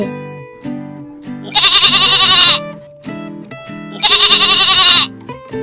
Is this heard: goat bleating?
yes